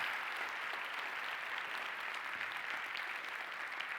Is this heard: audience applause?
yes